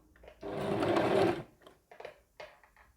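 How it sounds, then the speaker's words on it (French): A sewing machine stitches piping around a curved piece of fabric in one close, steady whir of about a second, then short stop-start bursts as the work is eased slowly around the curve. "je suis en train de coudre sur une pièce arrondie"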